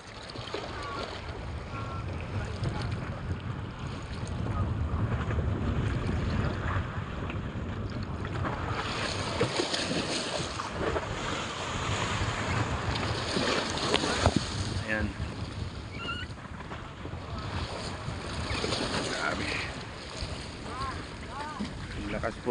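Strong ocean waves and gusting wind buffet a boat at sea in suddenly rough weather, a continuous roar of water and wind noise with intermittent voices talking over it.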